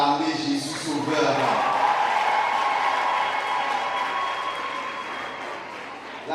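Steady applause from a concert audience celebrating Jesus, a dense continuous clapping with some crowd noise that carries on for several seconds before easing slightly.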